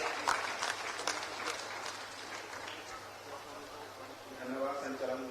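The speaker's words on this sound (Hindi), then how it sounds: "श्री सुखराम उरांव जी को आपके संबोधन के लिए तालियों के साथ स्वागत करें।" Crowd at an outdoor government outreach event in Siringsia, Tonto block, with the Chief Minister attending, applauds to welcome the Chakradharpur legislator; dense clapping runs throughout beneath ongoing talk.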